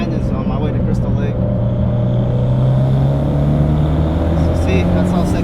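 A 2008 Mitsubishi Evo X running on E85 accelerates through winding canyon turns in Azusa Canyon. A loud, steady engine drone rises in pitch throughout, heard from inside the car.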